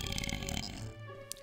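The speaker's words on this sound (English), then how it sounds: "Belch coming." A long, low belch in a Super Luigi Galaxy play session, rumbling and gravelly for about a second before tapering off, loud and close with no talk over it.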